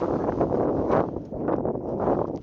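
Very strong wind buffets an outdoor microphone in a steady, loud roar with gusty surges and no speech.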